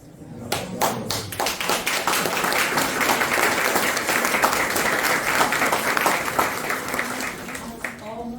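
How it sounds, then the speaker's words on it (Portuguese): Audience applause at an evening Spiritist gathering, a dense crowd of clapping that swells quickly and holds steady, with a few sharper individual claps near the start and a voice faintly mixed in. "As palmas são para Kardec, que trouxe esse capítulo maravilhoso."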